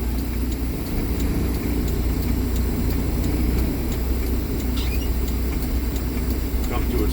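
A truck idles as it creeps forward a few feet and stops, heard from inside the cab as a constant loud engine rumble with faint ticking and a brief hiss near the end.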